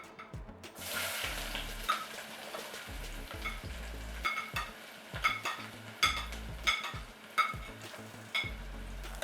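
Onions hit hot oil in a heated pan with a sharp burst of sizzling, then keep frying under a steady crackle while a utensil stirs and scrapes in a repeated rhythm.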